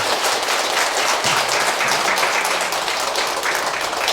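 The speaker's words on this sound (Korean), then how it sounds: "다시금 감사의 큰 박수" A large congregation applauds at a Korean Buddhist New Year dharma assembly after a monk's sermon, loud dense clapping sustained throughout with no break, close and enveloping.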